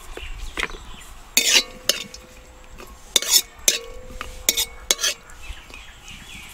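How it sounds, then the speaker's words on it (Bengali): Repeated metallic scrapes and clinks of a spoon stirring cashews and raisins in ghee in a kadai, with a faint sizzle of frying underneath between the sharp strokes. "এবার আমি ঘির মধ্যে দিয়ে দেবো কাজু কিশমিশ, দিয়ে ভেজে নেবো ভালোভাবে।"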